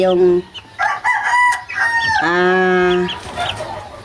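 Three-month-old chicks cluck and call nearby in short bursts with a longer sustained squawk in the middle, fairly loud against a quiet background.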